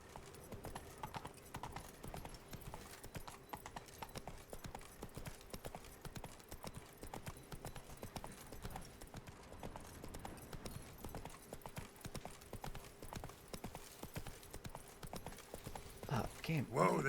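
The horse Roach trots in The Witcher 3 video game, with brisk, regular clip-clop hoofbeats continuing steadily throughout, fairly quiet, and a short louder burst of game sound near the end.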